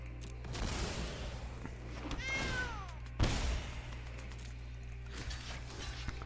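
A cartoonish meow sound effect in the MTG Arena digital card game as a cat card returns to play. The sound is a single short, falling meow over a low steady hum, faint overall.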